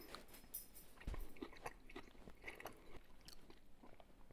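Quiet close-up chewing on a bite of pork chop, with a few soft crunchy bites and wet mouth sounds in an irregular rhythm, faint and with no speech.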